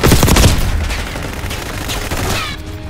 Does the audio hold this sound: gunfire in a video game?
yes